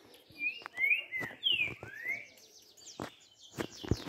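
A free trinca-ferro, or saffron-billed sparrow, near a cage at a house gives a few close, clear whistled chirps, followed by sharper clicks and taps, with quiet gaps between.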